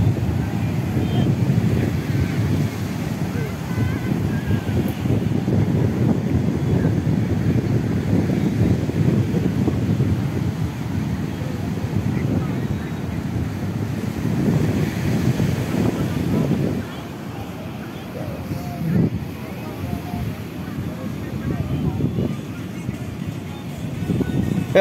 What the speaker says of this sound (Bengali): সমুদ্রটা দেখিয়ে নিই